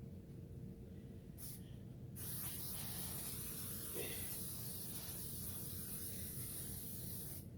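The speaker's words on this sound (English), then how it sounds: "we're gonna go ahead and spray our pan" Cooking spray hisses steadily and close up from an aerosol can, one continuous sustained burst lasting several seconds, over a low background hum.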